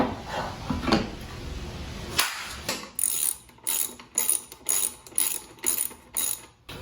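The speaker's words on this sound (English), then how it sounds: "then start to take off the wheel with an 18mm wrench." Ratcheting wrench clicks as an 18mm wrench loosens the rear wheel nut of a Spark (Rize) Bikes Blade e-bike, a run of about eight evenly spaced ratchet bursts, close and clear, after some handling noise.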